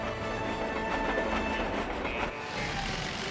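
A train in the video game Disney Planes rumbles and rattles steadily, with a dense clattering rolling noise that stays loud and continuous throughout, no talking.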